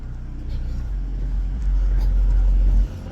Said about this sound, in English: Yo, you hear the car, man?